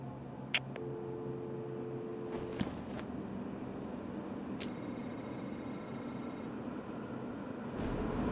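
A telephone rings in the Batman Arkham City video game, sounding as repeated electronic tones over a steady low background hum, with no talking.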